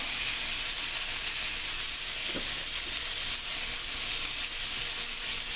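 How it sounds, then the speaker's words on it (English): A rib eye steak with mushrooms sizzles in a cast iron pan, a steady, loud, close frying hiss with faint crackles throughout and no talking. "Now we're going to throw our mushrooms on top."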